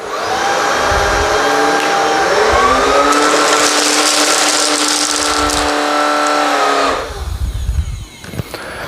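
A Shark Rocket Pet Pro cordless vacuum runs steadily and loudly on carpet for about seven seconds, a whining motor with tonal harmonics, then winds down and leaves a brief rough, shuffling tail.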